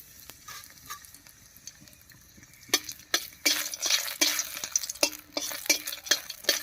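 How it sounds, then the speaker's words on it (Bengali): Hot mustard oil sizzles and crackles as dried chillies fry in a pan while a utensil scrapes and stirs in quick irregular strokes, growing busier midway through. "লঙ্কাটা একটু ভাজা হয়ে গেছে"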